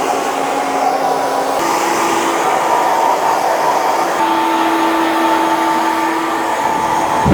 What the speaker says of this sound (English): I'm going to dry the hair because I need to cut into it